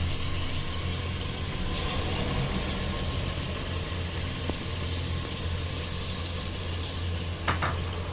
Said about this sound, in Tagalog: Kaya dito ko na lang din ipa-fry sa pressure cooker kung saan ko siya lulutuin.